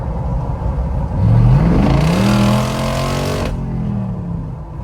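A Jeep Rubicon 392 V8 engine revs up hard from 40 to 50, its pitch climbing steadily for a couple of seconds before easing off into a steady roar.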